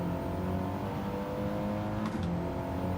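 An Audi TT Cup Gr.4 race car in Gran Turismo 7 drones with a steady engine tone at moderate loudness, holding a constant pitch throughout with no voices.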